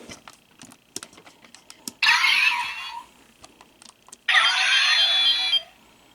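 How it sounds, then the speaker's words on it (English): Electronic sound effects from a Dark Kabuto Zecter toy, two loud, bright synthetic bursts of about a second each, close up, separated by faint clicks and handling taps. "I will say that the Dark Kabuto Zecter sounds just a little bit louder than the CSM Kabuto Zecter."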